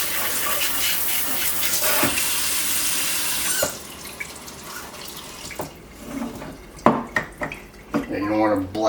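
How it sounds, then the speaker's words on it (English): Warm tap water running steadily while rinsing a hydro-dipped guitar, a continuous splashing hiss that stops midway, followed by scattered knocks, drips and handling sounds. "Then you just want to gently rinse."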